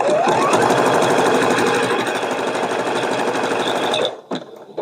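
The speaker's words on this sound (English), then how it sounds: "stop sewing underneath that wing because the wing will be over top of it and lock those stitches into place" A sewing machine stitches an appliqué block in a steady, loud, close, fast mechanical whir for about four seconds, then stops abruptly, leaving a few faint clicks.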